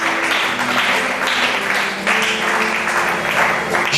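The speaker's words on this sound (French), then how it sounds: "Acclame très fort pour Jésus." A church congregation applauds loudly and continuously, dense clapping filling the room at close range for the whole stretch, with voices faintly mixed in.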